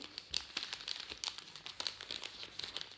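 Crinkling and tearing of paper as a small wrapped Christmas present is opened, dense rustling crackles and short rips close by with no talk.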